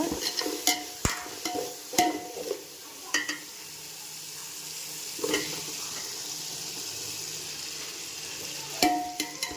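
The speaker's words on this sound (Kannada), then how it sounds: "ಟೊಮೊಟೊ ಎಣ್ಣೆಲಿ ಚೆನ್ನಾಗಿ ಫ್ರೈ ಆಗಬೇಕು." Tomatoes fry in oil with masala for chicken biryani, giving a soft, steady sizzle with sharp clicks and scrapes of a spoon stirring the pan at irregular intervals.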